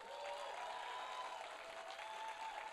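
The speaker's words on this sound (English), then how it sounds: "I'd also love to keep that applause going" An audience at a film livestream event applauds director David Leitch, a steady, even spread of clapping heard at a distance and held at a fairly faint level.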